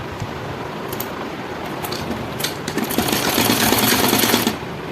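A sewing machine stitches the front neckline of a katori blouse, a close mechanical rattle that builds and runs faster toward the end before easing off, with no talk.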